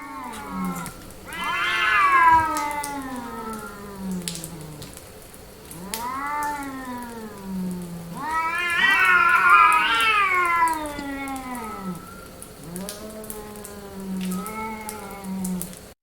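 A cat meows in long, drawn-out calls, a few of them rising into loud caterwauling cries, spaced with short pauses and close to the listener over a faint background hiss.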